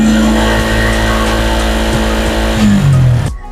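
A Suzuki Gixxer SF motorcycle engine revving loudly and close, holding a steady high drone before the pitch falls away and cuts off abruptly at the end.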